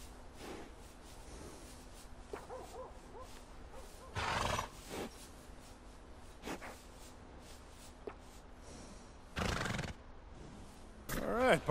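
Horse neighing in the video game Red Dead Redemption 2, a few short whinnies and snorts at moderate distance over quiet ambient game sound, with brief breathy bursts spaced several seconds apart.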